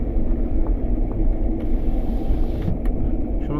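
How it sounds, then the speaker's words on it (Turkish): Steady roaring rush of wind and road noise inside a low-slung Hyundai Getz driving with a window open, continuous and loud with no talking. "Ama şimdi rüzgar sesi gelecek size."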